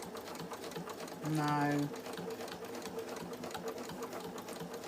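Sewing machine running in a short, fast burst of about half a second while stitching, close and clear, with someone talking quietly and steady room noise before and after.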